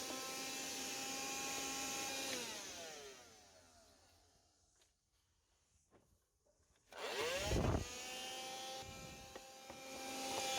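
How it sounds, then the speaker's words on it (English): Vacuum cleaner sucking out the air filter airboxes of an AMG C63, a steady loud whine that fades away mid-clip, then restarts with a rising surge and carries on, close up with no talk. "I'm just going to go back to my airboxes and give them a good vac."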